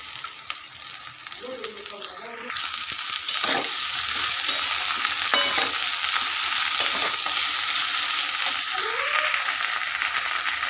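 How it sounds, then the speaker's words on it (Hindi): Okra goes into a hot pan and is stir-fried, producing a loud, continuous sizzle that swells after it is added, with scraping spatula strokes and occasional clanks throughout. "भिंडी को इसमें ऐड कर दे रहे हैं"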